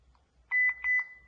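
A Wi-Fi light-bulb camera sounds a short confirmation tone on connecting: four quick, clear electronic beeps in a rapid pattern, close and alone against near silence.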